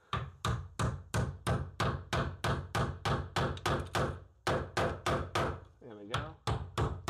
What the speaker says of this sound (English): And then hammer in my box.